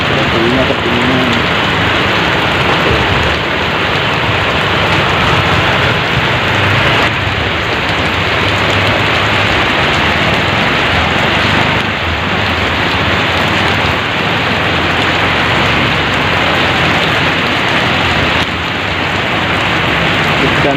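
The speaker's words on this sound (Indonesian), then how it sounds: "Hujan deras" Heavy morning rain in Duren Sawit, East Jakarta, pours down in a loud, steady hiss of drops hitting surfaces, unbroken from start to finish, with no voices over it.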